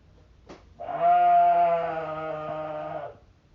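A single sheep lets out one long, loud, wavering bleat lasting about two seconds, preceded by a faint click, with no voices around.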